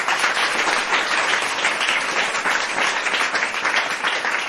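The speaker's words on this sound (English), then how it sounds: "So give them a round of applause." Audience applause for panel guests, a journalist and filmmaker among them, at a live podcast recording on women film directors: dense, steady clapping from a full room that holds evenly for the whole stretch.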